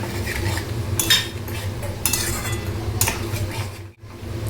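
A spatula stirs turmeric, chili powder and ginger-garlic paste around a pan, making a few soft scraping clatters spaced about a second apart over a steady low background hum.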